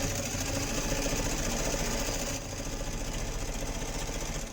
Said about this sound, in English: I'm just going to put it in my sewing machine and literally stitch across the top